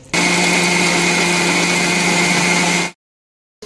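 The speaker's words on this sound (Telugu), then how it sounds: "ఇది ఇప్పుడైతే వాటర్ పోసుకొని మిక్సీకి వేసుకునేదాం" A mixer grinder blends spices with water, a loud, close, steady motor whine that runs for about three seconds and then stops abruptly into silence.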